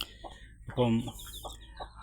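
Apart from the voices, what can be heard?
hen clucking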